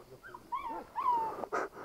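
Pastore della Sila sheepdog puppies whimpering in a stable, several short high whines and yips close by, one rising squeal near the end, with quiet background between.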